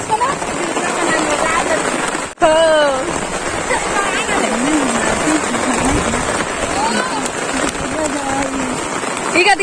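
Steady rain pours onto a flooded village road as a dense, continuous hiss, with people talking over it throughout.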